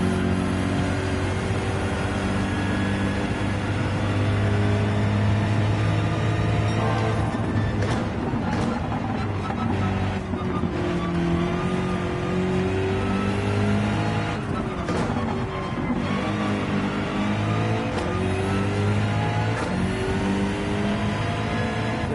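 A BMW Gr.3 race car engine in Gran Turismo 7 drones loud and continuous around a track, its steady tonal whine shifting pitch with throttle and gear changes, with no speech over it.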